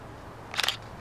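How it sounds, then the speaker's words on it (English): A single camera shutter click, a short crisp mechanical snap standing out briefly over a faint background hum. "Just one cocked shutter, one anxious finger"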